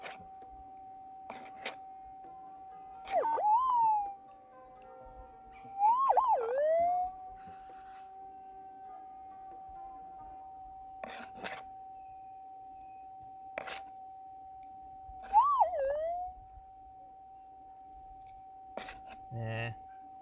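Minelab GPX gold metal detector emitting a steady threshold hum, broken by a few warbling, wobbly signal bursts as the coil passes over a rusty target, with faint clicks and quiet handling noise.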